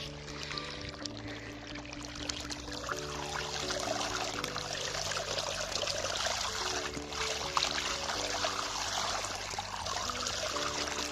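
Clear water from a newly drilled borehole well pours and splashes steadily in a garden, a continuous close, even rush with no pauses.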